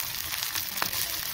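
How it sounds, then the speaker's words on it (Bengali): Garlic, ginger and cumin fry in a pan with onions and chillies already browned, giving a steady close sizzle with one brief sharp crackle near the middle. "রসুন আর জিরা দিয়ে একটু ভাজবো"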